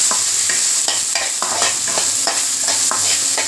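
Loud, close sizzling of chopped onion frying in hot oil, broken by repeated scraping stirs at an irregular rhythm.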